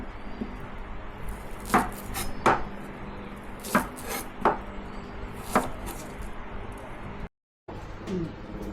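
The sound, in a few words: chopping mint and shallots with a knife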